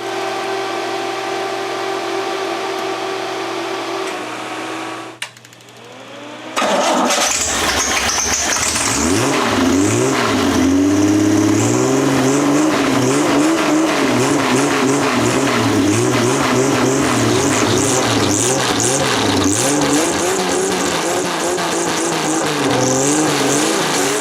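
An old six-cylinder race car engine: a low idle hum, a brief near-silent pause, then the engine catches and runs loud and rough, revving up and down repeatedly with a deep rumbling tone, close up with no talking.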